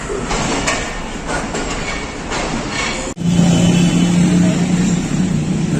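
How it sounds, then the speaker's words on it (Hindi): The Badar Express, a Pakistan Railways passenger train, arrives at Faisalabad station with loud rumbling and clattering wheels, then a sharp bump and a steady low mechanical drone as the carriages roll in close by. "112 डाउन बदर एक्सप्रेस जो है वो फैसलाबाद पहुंच रही है।"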